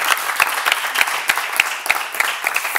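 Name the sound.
studio audience applause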